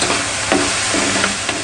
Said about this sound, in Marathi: वाटण मी आता टाकून घेणार आहे आणि चमच्याने व्यवस्थित मिक्स करून घेणार आहे.